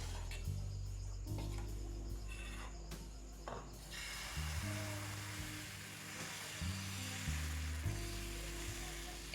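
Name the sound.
patisapta batter sizzling on ghee-brushed tawa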